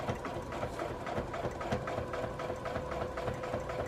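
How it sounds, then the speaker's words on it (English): Domestic sewing machine quilting a Dresden Plate wall hanging, stitching in the ditch and along petal edges; a steady, close mechanical whirring with rapid needle ticks runs continuously throughout. "I'm stitching either in the ditch or on the top of the petal."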